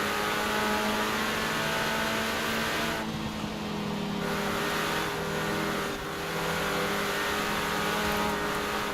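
A Renault race car in Forza Horizon 4 launches from the start, its engine droning loud and steady for the whole stretch with no voices over it.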